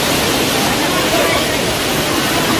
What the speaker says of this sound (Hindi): झरना देखो यार, क्या साफ पानी आ रहा है, एक नंबर।